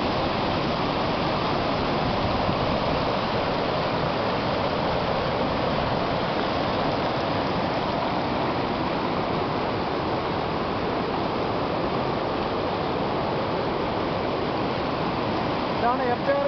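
Water rushes loudly and continuously into the Anjuruli tunnel entrance that feeds the Idukki reservoir, a dense steady roar filling the whole stretch without pause.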